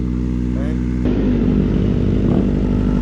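A motorcycle engine idles while warming up, a steady low throbbing hum that grows slightly louder and rougher partway through. A voice speaks briefly over it.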